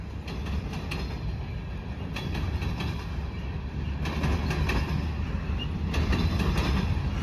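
A freight train of box cars rumbles steadily past with repeated clicking and clanking of wheels over rail joints, a continuous rolling noise that grows slightly louder toward the end.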